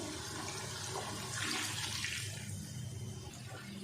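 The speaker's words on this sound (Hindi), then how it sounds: "और अब डाल देंगे पानी। तकरीबन हम 3 गिलास इसमें पानी डालेंगे।" Water pours steadily into a cooking pot for aloo tahari, a gushing rush that swells then settles, with no talking.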